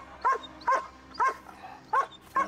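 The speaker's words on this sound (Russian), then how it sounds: "Зачем они со своей собакой сюда притащили?" A dog barks five times in a steady, evenly spaced series, each bark short and clear, fairly close, with no talk over it.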